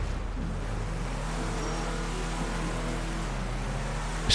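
Expensive car driven in a video game, a steady engine drone with a rising and falling pitch as it accelerates, heard alone at moderate loudness.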